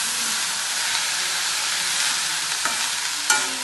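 Cabbage fries in a pan while being stirred, a steady, close sizzling hiss with occasional scrapes and clinks of the spoon.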